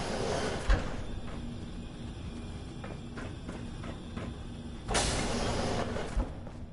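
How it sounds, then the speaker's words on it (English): A faulty, sputtering door in the video game Fallout 4 is worked open, with mechanical scraping and clunking that rises into two louder sliding surges, heard alone with no talking. "This door's on the fritz."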